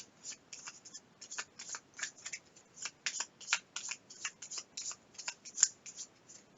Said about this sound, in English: Because obviously I can't shuffle worth a shit.